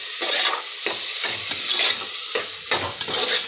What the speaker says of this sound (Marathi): बटाटे आणि मटर मटर टाकलेले आहेत आता त्याला परत परतून घ्यायचं सगळं